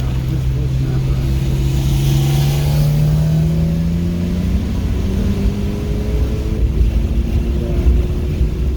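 A race car on a wet track at MSR Cresson, in the rain, with a loud steady engine drone that slowly climbs in pitch, heard close with wind buffeting the microphone.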